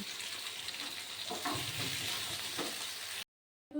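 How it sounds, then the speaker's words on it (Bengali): Chopped ghati kochu (taro) sizzles steadily in a hot kadai after a pinch of turmeric goes in, with a close, dense crackle and a few soft stirring scrapes before it cuts off abruptly. "এবার আমি গাটে কুচিগুলো ভেজে নিচ্ছি"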